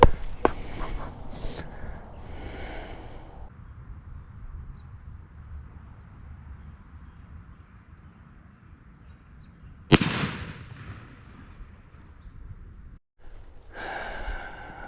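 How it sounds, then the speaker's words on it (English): A single gunshot is fired at a target about 26 yards away during turkey season practice. One loud, sharp crack rings out near the middle, surrounded by quiet outdoor ambience and soft breathing. "let's try a shot on that target from here, approximately 26 yards"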